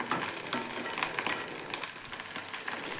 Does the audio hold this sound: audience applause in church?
no